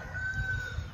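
A rooster on a homestead crows in a long, steady call, with a thin high tone held over low rumbling background noise throughout the brief moment.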